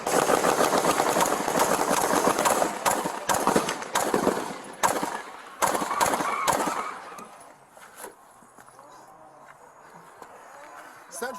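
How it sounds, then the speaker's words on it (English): An AK-47 fires automatically at police officers in a real shootout, with rapid, loud, cracking bursts packed together for several seconds before thinning to scattered shots, while voices shout underneath. "we got a man with an AK-47. He's shooting at us."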